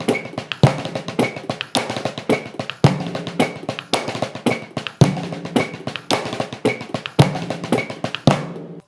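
A drum kit plays a Blushda rudiment grouped in eights, seven strokes plus a bass drum hit, repeating as a steady, dense pattern of sharp close-miked snare taps punctuated by regular low kicks.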